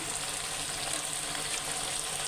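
Rohu fish frying in oil with spices in a pan gives a continuous, dense hissing sizzle, steady and fairly loud with no voices over it.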